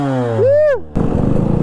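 A KTM 125 enduro dirt bike engine revs up sharply while climbing, its pitch rising and falling in a loud, close whine before breaking into a rough, choppy two-stroke burble.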